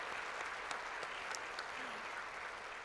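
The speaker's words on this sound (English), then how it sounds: "Could we please give them a round of applause?" Lecture-hall audience applauding at a university global lecture event, a soft, distant patter of many hands, fairly even and faint, with a few sharper individual claps standing out.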